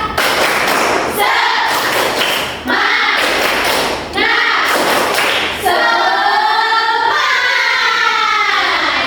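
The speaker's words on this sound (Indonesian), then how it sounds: "Tepuk semangat." A class of young schoolchildren performs a rhythmic clapping chant, loud bursts of hand claps and thumps in repeated groups close by, with children's voices chanting along between them.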